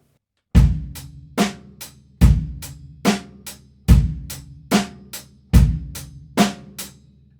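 An acoustic drum kit plays the original boom-chak beat, low kick thumps alternating with sharper snare cracks in a steady, evenly spaced pattern, loud and close with short decays and no talking.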